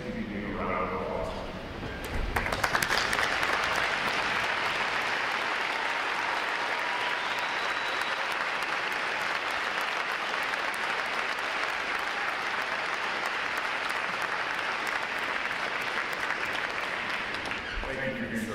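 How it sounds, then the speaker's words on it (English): Veterans are applauded at a U.S. Navy recruit training graduation ceremony. Sustained, even clapping from a large audience rises suddenly and holds steady, with faint voices underneath. "Would all of our veterans please stand and give you a round of applause"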